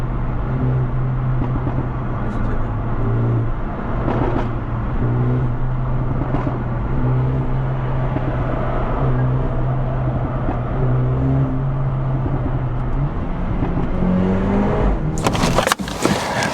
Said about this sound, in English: I've got it in Sport Plus mode at the moment. It's doing bits. Very aggressive, the gear changes on this one.